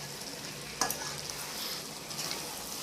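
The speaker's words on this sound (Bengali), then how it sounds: "তো আমি এখন ভালো করে নেড়ে ছেড়ে দেবো।" Mutton kosha being stirred in a pan as it fries in released oil, with a steady soft sizzle, one sharp scrape of the spoon near the start and light stirring noises after, heard up close without talk.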